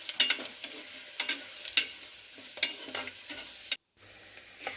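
Onion being fried in a pan, a quiet steady sizzle broken by repeated scraping stir strokes, then a brief gap before the sizzle resumes, no voices.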